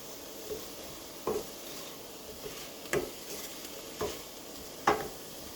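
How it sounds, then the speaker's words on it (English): Baked ziti sauce with salt sizzling steadily in a pan while a spoon stirs it, with periodic knocks and scrapes against the pot, close and unaccompanied by speech. "Listen to that sizzle."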